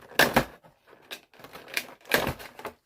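Knife slicing through the packaging of a Charizard Select box, heard close up as several short, scratchy cutting strokes separated by brief pauses.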